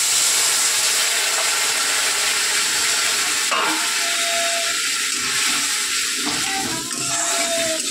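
Water poured into a hot frying pan sets off a loud, steady hiss and sizzle that runs on throughout, with brief clinks of utensils partway through and no voices.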